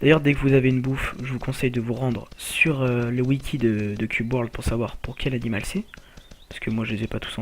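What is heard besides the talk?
None of the usual background noises is heard.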